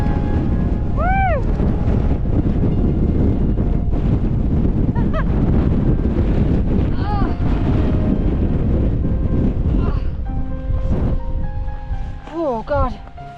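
Strong gusting wind roars across an exposed fell top in the Lake District, a steady loud buffeting that batters the microphone throughout and eases slightly near the end, with a person calling out over it.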